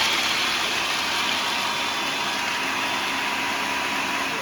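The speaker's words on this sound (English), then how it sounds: "Cut the walnuts." Walnuts are ground in a kitchen appliance, a continuous loud whirring motor drone with a gritty rasp, steady from start to finish with no pauses.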